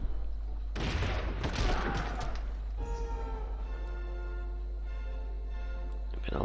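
Cannon bombardment in the strategy game Civilization IV: a loud burst of booming, crackling gunfire lasting a couple of seconds, followed by a long ringing, tonal decay under steady background music.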